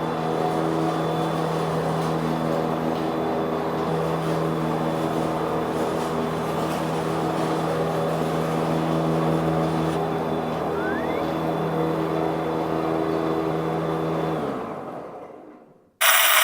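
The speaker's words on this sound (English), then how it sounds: "This Powersmart battery snowblower runs great." A Powersmart 80V cordless battery snowblower runs with a steady, loud electric motor drone and whine for about fourteen seconds, then spins down to near silence before a brief loud burst at the very end.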